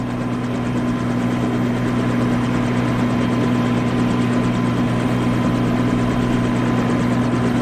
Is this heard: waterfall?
no